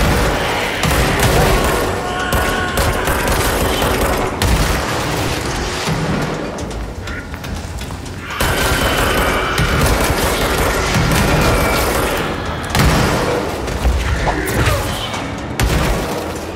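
Dense video game gunfire and booms in the action game Control, loud sustained bursts of shooting with crashing impacts that continue through most of the stretch, broken by a brief lull.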